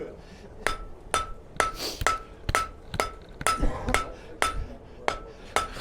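Hammer blows ring out on hot steel at a forge as a forge weld is set, about eleven sharp, evenly spaced metallic strikes roughly every half second, loud and close.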